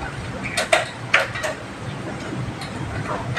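A Phillips screwdriver works loose the parts of a baby rocker, giving a few sharp close clicks and small mechanical taps in a brief cluster over a quiet room hum.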